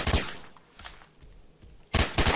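Sharp gunfire from a first-person shooter video game, with a burst of rapid shots at the start, a few fainter shots in the middle and another loud burst near the end.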